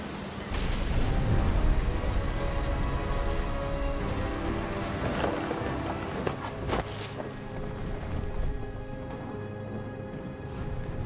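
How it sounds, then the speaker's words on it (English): Steady, loud rain pours throughout a storm in the video game What Remains of Edith Finch, with a distant rumble of thunder swelling near the middle, no voices present. "The thunder sounded much too close and full of angry power."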